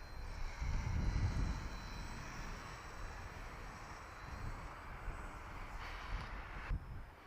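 An RC CargoTrans C-160 model plane flies overhead with differential thrust on, its electric motors a thin, steady whine over gusty wind rumble on the microphone, loudest early and then fading.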